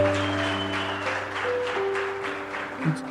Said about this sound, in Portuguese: esse tipo de adoração, essa quantidade de palmas que vocês deram